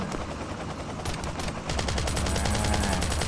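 Rapid automatic AK rifle fire in the survival game Last Island of Survival, a continuous rattling stream of shots that grows louder and denser midway, with no talk.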